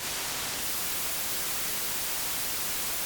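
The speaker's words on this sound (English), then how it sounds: "re-record white noise over and over" White noise re-recorded 34 times through a Universal Audio Apollo Twin X interface: a steady, dense broadband hiss fills the whole clip at constant level, with no voices or other sounds.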